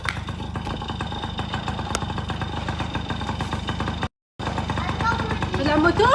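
A small motorcycle engine idles close by with a steady low throb, cut by a brief gap, then revs up slightly toward the end.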